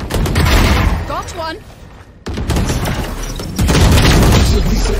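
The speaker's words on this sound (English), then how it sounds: "Bomb grenade out." Grenade blast and gunfire in Valorant during a tournament match: booming impacts and rapid shots, loud and dense, with a brief dip before the action resumes and intensifies, while a voice speaks over it.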